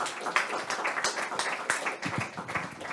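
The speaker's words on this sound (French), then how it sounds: "Ben on va applaudir parce que c'était intéressant." A small audience claps after a talk at an open-source conference, a scattered run of fairly quiet hand claps lasting a few seconds rather than a full roar of applause.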